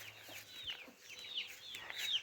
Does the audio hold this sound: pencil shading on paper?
no